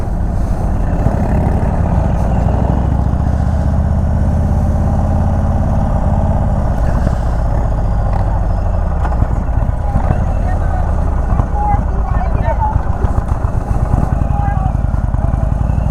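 A 2021 Indian Chief Bobber 116 Stage 2 motorcycle engine pulls at low to mid revs while riding, a loud steady rumble with wind noise throughout.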